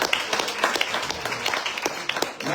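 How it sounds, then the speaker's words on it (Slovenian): Audience applause at an evening talk event, a dense patter of scattered hand claps from a modest crowd, irregular and moderately loud, without voices over it. "Aplavz."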